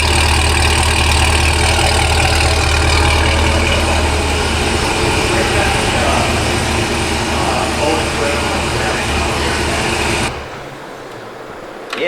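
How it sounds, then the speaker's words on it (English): Cadillac CT5-V exhaust fitted with headers and the stock valved mufflers, a loud, deep, steady rumble for about ten seconds that then drops off abruptly to a quieter, lower hum. "definitely leave your stock mufflers because this sounds just about perfect to me"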